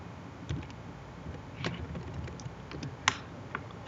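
Keys on a computer keyboard tapped while a function formula is typed: soft, irregular clicks at close range, with a couple of firmer keystrokes over a low hum.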